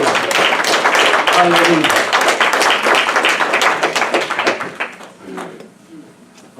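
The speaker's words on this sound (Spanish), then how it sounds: "Denle el aplauso a Jesucristo." Church congregation applauding loudly at a worship service, a dense wash of clapping with voices calling out over it, tapering off near the end.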